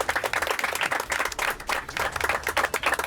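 Dense, steady applause rolls on for a young leg-spin cricketer from Thatta, a girl on Pakistan's women's under-19 team, with many hands clapping close and evenly throughout.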